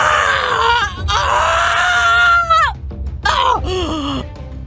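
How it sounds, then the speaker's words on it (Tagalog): A loud scream from an aswang creature: a strained, voiced shriek held for about two seconds that bends downward, then breaks into shorter wailing cries and a falling groan. "biglang magpakawala ng malakas na sigaw ang aswang"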